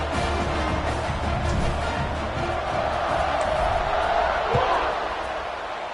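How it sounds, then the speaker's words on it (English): A college football crowd in a packed stadium cheers and roars continuously at a kickoff, loud and dense throughout, with a commentator's voice running over it. "You think this crowd's going to get loud when their defense comes on the field?"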